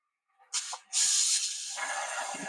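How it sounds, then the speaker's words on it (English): Hot steam hisses from a cooking pot used for pork ribs in salsa verde, a brief spurt followed by a loud, sustained rushing hiss that slowly eases off, heard close with no talk. "it's hot steam and you'll burn yourself"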